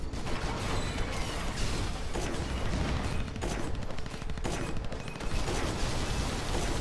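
Sniper fire in the AirMech Arena video game: dense, loud rapid gunfire and mechanical clatter form a near-continuous barrage, with brief dips in the roar between bursts.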